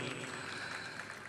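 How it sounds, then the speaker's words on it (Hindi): Audience applause welcoming actor Satish Kaushik at an event, a steady dense wash of clapping filling the whole brief moment with no voices over it. "एक बार जोरदार तालियों से स्वागत होना चाहिए सतीश कौशिक जी का।"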